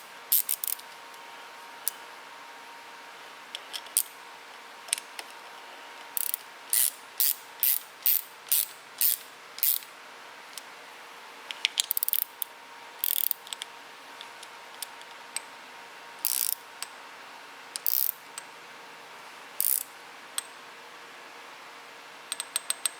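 A ratchet wrench snugs up bolts on a Minn Kota trolling motor during a teardown, giving repeated bursts of sharp clicking pawl strokes, close and fairly loud, with short pauses between runs and no talk.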